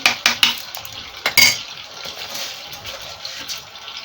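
Rice tipped into a pot of fish soup cooked with onion, pepper and spices: a few clattering pours and utensil knocks up front, then a soft bubbling wash that settles into a quiet simmer, no talk.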